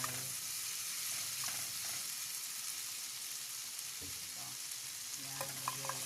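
Vegetables sautéing in a pan, a steady broad sizzle of frying running throughout, with a few faint scrapes and utensil knocks near the end; no talking.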